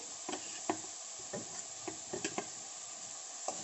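Chopped tomatoes soften in a pan while a spoon stirs them, giving a quiet, close scrape-and-tap rhythm of irregular knocks over a faint, steady sizzle, with no talking.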